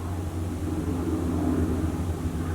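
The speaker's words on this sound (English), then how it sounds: "plane still circling over my house" An aircraft circles overhead outside a house, a steady low droning engine hum heard from indoors, continuous and fairly loud with no talk over it.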